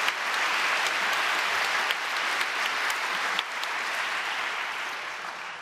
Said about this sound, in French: donc nous l'applaudissons quand même